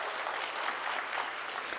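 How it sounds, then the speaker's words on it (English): Audience applause at a youth agricultural conference, a steady patter of many hands clapping at moderate volume for a brief moment. "Maybe we should clap there"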